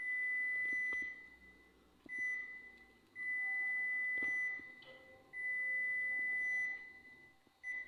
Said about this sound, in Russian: Оно именно пикнуть должно.